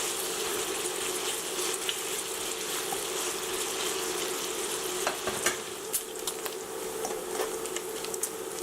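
Previously frozen bacon slices frying in a pan for rice stir fry, a dense continuous sizzle with occasional scrapes and clicks as the pieces are broken apart, close and steady.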